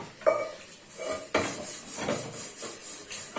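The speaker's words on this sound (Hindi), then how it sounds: "तो अब जो है बर्तन धो लेते हैं, बर्तन वॉश कर लेते हैं, चाय वाले और फेनियों वाले" Pots, cups and dishes used for tea are washed in a home kitchen, with repeated clinks, clatters and scraping of utensils at close range and no talking.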